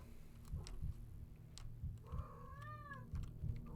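A cat meows in a video game, one drawn-out, rising and falling meow standing out midway over a steady low background hum and faint ticking sounds.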